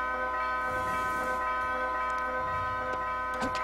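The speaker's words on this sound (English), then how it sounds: "Church bells are ringing." Church bells ring in the LEGO Pirates of the Caribbean video game, a steady sustained chime with sparse ticking accents and no talk, at a moderate level throughout.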